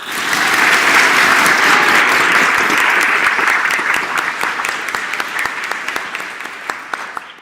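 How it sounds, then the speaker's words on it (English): An audience at a national debating championship grand final breaks into loud, dense applause, which holds steady for several seconds before thinning into scattered individual claps. "Can we start by very quickly giving a massive round of applause to both of our amazing finalist teams."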